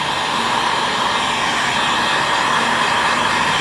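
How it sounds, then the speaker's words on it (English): A heat gun shrinks window tint film on a car at a detail shop, giving a loud, constant airy blowing hiss with no pauses and no talk. "And I'll start shrinking, make sure my heat gun is nice and hot."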